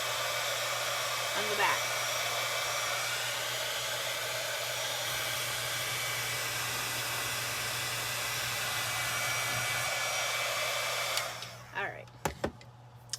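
A hair dryer blows steadily and loudly at close range while drying a DIY St. Patrick's Day shamrock craft, then switches off near the end, leaving a few brief clicks and handling sounds. A few words are spoken over the airflow.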